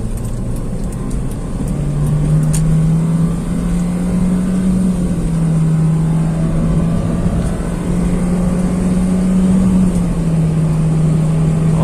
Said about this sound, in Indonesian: ternyata dia tetap pindah gigi sendiri ya kalau RPM-nya sudah habis